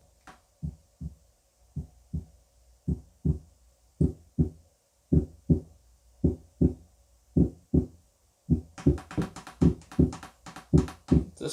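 An iHome Zenergy iZBT10 sleep therapy speaker plays its heartbeat sound, a steady run of soft, deep thumps in regular pairs. Near the end a bright, airy hiss joins the beat.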